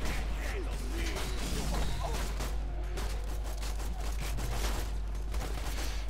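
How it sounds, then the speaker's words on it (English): Gunfire in Borderlands 2, a dense rattling fusillade of rapid shots and mechanical clatter running throughout, with a voice talking over it. "Who is shooting at me?"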